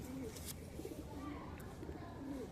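An old pigeon coos in soft, low, repeated phrases, several in a row, close by, over a steady background murmur.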